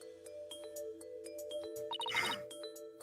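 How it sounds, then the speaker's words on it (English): Bell chimes sound as footsteps in the courtroom video game Phoenix Wright Ace Attorney: Spirit of Justice, a string of bright ringing tones over game music, with a louder shimmering burst near the end and no talking. "The sound of bells changes to the sound of water at one point."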